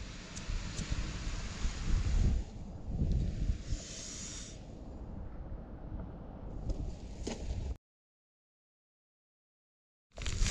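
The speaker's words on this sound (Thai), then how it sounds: "ลมมันแรงไงนะ" Strong wind at a seashore on a coastal spearfishing trip roars and buffets the microphone in loud, uneven gusts for several seconds before cutting to silence.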